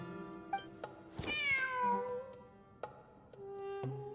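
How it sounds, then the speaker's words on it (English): Cat meowing from the video game Genshin Impact: two short mews, then a long, drawn-out meow with a falling pitch, and a few softer mews afterward, set over a quiet background. "Wait, there it is! The cat!"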